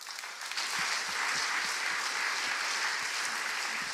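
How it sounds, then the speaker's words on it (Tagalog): Loud, sustained applause from a church congregation giving thanks to God, a dense wash of clapping that holds steady from start to finish with no voices over it. "pwede po ba natin bigyan siya ng malakas na palakpak?"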